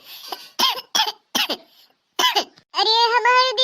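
An older sister with a bad cough coughs hard indoors at home, giving a series of harsh, close, loud bursts separated by short pauses. The last cough is a longer, strained, voiced hack.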